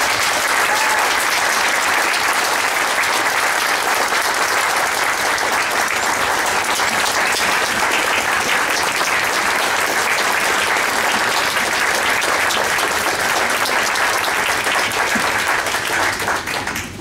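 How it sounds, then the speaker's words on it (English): Loud, sustained applause from a crowd at a Republican Party county meeting, dense steady clapping that fills the whole stretch without letting up and with no talk over it. "let's give these people a round of applause."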